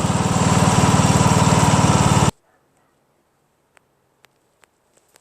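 Briggs & Stratton engine on a Craftsman LT1000 lawn tractor running loud and close with a steady rapid putter for about two seconds, then cutting off abruptly to near silence broken by a few faint clicks.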